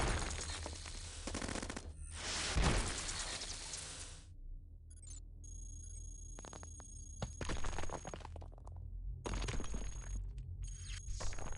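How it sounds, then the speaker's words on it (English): Missile launcher fire in the robot roguelike game Cogmind, bursts of sharp crackling explosions and rattling impacts arriving in several separate volleys with short gaps between, fairly quiet overall. "I'm just gonna missile launch these guys."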